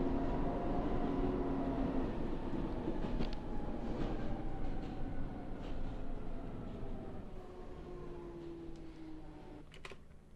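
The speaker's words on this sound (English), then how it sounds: "So now there are multiple types of trains running on this line." Several Minecraft trains run together on a rail line, giving a steady rumbling roll with long sliding tonal whines and scattered clicks that slowly fade as they pass.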